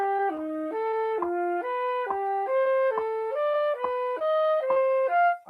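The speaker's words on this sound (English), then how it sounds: "So here's the sound of fourths with that scale." Saxophone running a melodic minor scale in fourths, a steady stream of clean, evenly spaced leaping notes played close and loud, alone without talking.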